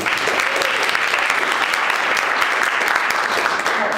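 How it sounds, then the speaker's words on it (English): Steady, dense applause from a seated audience at a morning startup pitch meeting, loud and sustained for the full four seconds with no pauses. "Let's give him another round of applause."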